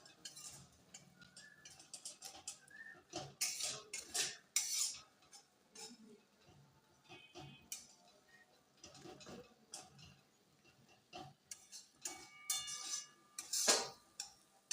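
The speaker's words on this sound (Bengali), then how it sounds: "চিনিটা দিয়ে এবার আমি ভালোভাবে আর একটু কষে নেব" Spice paste with a little sugar is stirred and fried in a pan, heard as quiet, intermittent clinks and scrapes of a metal utensil against the pan, coming in irregular bursts with soft pauses between them.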